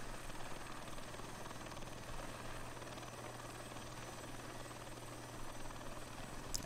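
A helicopter in a flight simulator video game gives a steady, even rotor and engine drone at low volume, with no change in pitch or intensity throughout.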